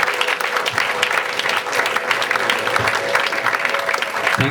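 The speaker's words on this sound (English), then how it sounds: "Give these lads a big round of applause" Audience at a stage hypnotist show held at a football club breaks into dense, sustained applause. The clapping stays loud and steady for the full stretch, with faint crowd noise underneath and no voice on top.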